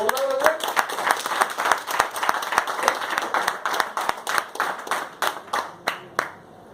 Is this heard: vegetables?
no